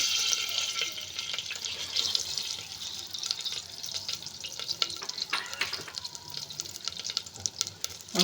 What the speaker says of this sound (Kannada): ಅದೇ ಕುಕ್ಕರಿಗೆ ಒಂದು ಸ್ಪೂನಷ್ಟು ಆಯಿಲ್ ಹಾಕ್ಕೊಂಡಿದ್ದೀನಿ ಅದಕ್ಕೀಗ ಒಂದು ಸ್ವಲ್ಪ ಜೀರಿಗೆ ಮತ್ತು ಸಾಸಿವೆ ಹಾಕ್ಕೊಳ್ತಾ ಇದ್ದೀನಿ